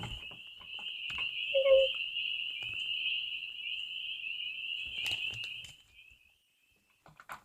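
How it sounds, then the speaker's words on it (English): A steady high trill from spring peeper frogs calling at dusk, a dense continuous chorus held for about six seconds with a few faint low knocks before it fades to near silence. "this is when you're going to start hearing those spring peepers. And here is what they sound like."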